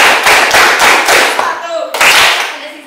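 Several sharp hand claps in a steady rhythm, close and loud, followed by a brief pause and one more clap.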